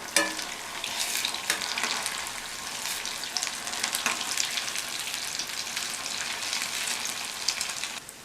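Leftover-rice bondas made with gram flour and semolina fry in hot oil, a steady close crackling sizzle with occasional ladle stirs and clinks throughout.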